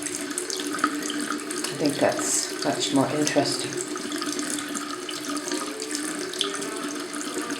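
Water runs steadily from a tap into a sink in Italy, a continuous splashing hiss close by, with a person talking over it.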